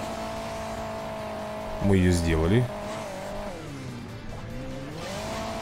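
A sports car engine in Hill Climb Racing 2 drones steadily with a tonal hum, surges into a sharp rising rev for under a second, then settles back to a wavering engine note, with someone talking briefly over it.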